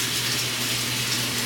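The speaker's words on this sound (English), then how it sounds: "we're gonna fill this up with some water" Tap water gushes steadily into a large cooking pot being filled in a kitchen, a loud, continuous rushing stream with no talk over it.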